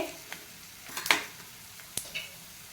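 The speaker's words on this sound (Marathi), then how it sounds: "पांढरे तीळ आणि जिरे टाकून सुद्धा परतून घेते" Sesame seeds, cumin and coriander seeds toasting in a pan with peanuts, a soft dry sizzle broken by a few sharp spoon scrapes and clinks against the pan.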